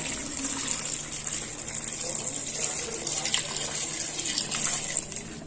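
Steady rushing of pre-boiled hot water pouring over catfish, a continuous gush with faint clinks and splashes throughout.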